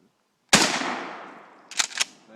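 A single loud, close shotgun blast outdoors while bird hunting, its echo trailing off, followed by two quicker, fainter sharp reports.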